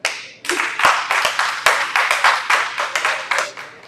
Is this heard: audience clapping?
yes